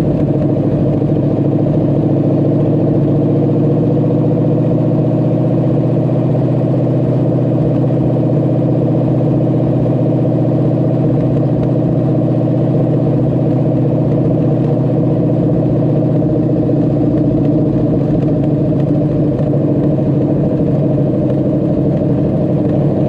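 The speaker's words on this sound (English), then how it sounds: "Drove Hemicuda convertible." A 1971 Plymouth Hemicuda convertible engine runs steadily with a deep, even rumble, loud and close, holding a constant tone without revving for over twenty seconds.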